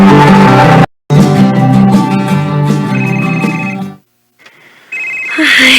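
A phone rings loudly with an incoming call, a bright repeating melodic ringtone close by, broken by a brief gap, then fading into quieter sounds near the end.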